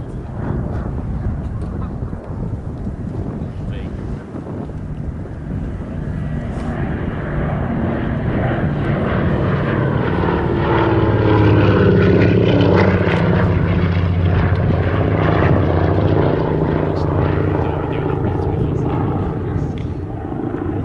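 A propeller aircraft flies past at Sywell airshow, its engine drone building from a distance to a loud, close roar midway and then easing slightly, with crowd or commentary murmur beneath.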